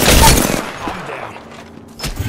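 Gunfire in the video game Apex Legends: a loud, close burst of rapid shots at the start that fades away, followed by a brief sharp crack near the end.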